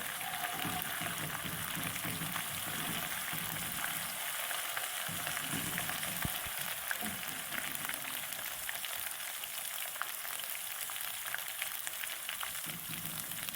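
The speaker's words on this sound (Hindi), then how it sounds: "अब हम इसमें डाल देते हैं मिर्च, हरी मिर्च। इसको भी थोड़ा सा फ्राई कर लेंगे।" Green chillies and garlic fry in hot oil in a pan, a steady, fairly quiet sizzling hiss with faint scattered crackles throughout, no voices.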